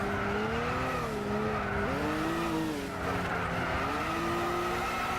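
Volkswagen New Beetle with strong rear ballast racing in Gran Turismo 6, its engine droning loudly and steadily with pitch rising and dipping through gear changes and corners, tires squealing, heard up close.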